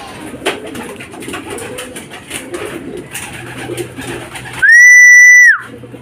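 A racing pigeon arrives at the loft at the end of a club training race, with wing flutters and ambient outdoor noise, followed by a loud sustained whistle lasting nearly a second.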